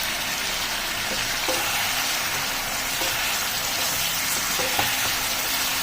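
Chicken pieces for lemon chicken fry in a pan with a steady, close hiss and sizzle, continuous throughout with faint occasional stirring, no voices.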